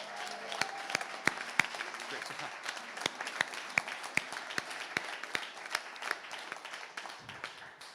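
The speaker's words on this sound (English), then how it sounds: "Let's give everyone a round of applause." A crowd applauds at a Senate campaign launch, with scattered, fairly sharp claps over a steady bed of clapping at moderate distance, lasting several seconds and slowly thinning out.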